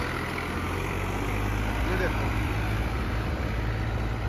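A 39 hp New Holland 3037 tractor, thirteen years old, runs at a steady idle with a low, even engine drone throughout, and someone speaks over it.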